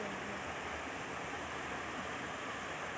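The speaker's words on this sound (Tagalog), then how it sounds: "Aras Falls." Aras Falls waterfall pouring into a stream, a steady, dense rushing roar that holds even and unbroken throughout, with no pauses or distinct splashes.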